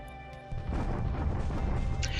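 A Japanese artillery bombardment sound effect plays in a Pacific War alternate-history strategy game. A sudden heavy crash opens into a sustained, rumbling barrage of booms that continues to the end.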